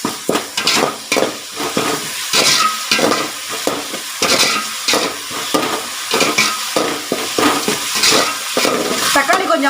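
Ginger garlic paste is stirred into tomato masala frying in a pan. A spoon scrapes steadily over a constant loud sizzle, with occasional clinks against the pot.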